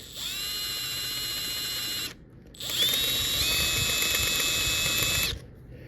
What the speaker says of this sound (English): Let the drill do the cutting.